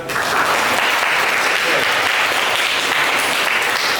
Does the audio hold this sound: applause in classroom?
yes